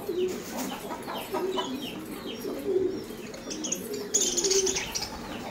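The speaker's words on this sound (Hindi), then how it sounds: "बाहर से कबूतर आते हैं खाने के लिए" Pigeons coo in soft, repeated throaty phrases close by at feeding, mixed with scattered chirps and clucks from chickens and other birds in the background.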